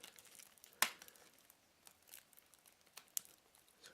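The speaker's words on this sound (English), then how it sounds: "pop open the packaging. So we do that by peeling" Clear plastic film peeled off the sealed tray of a SanDisk Extreme PRO 64GB SDXC memory card, faint close crinkling with a couple of sharp crackles.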